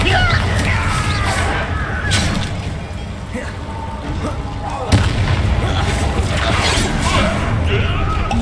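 Bombarda spell blast in Hogwarts Legacy: a dense, loud explosive roar with sharp cracks near the start and around the midpoint, rumbling debris and noise continuing throughout.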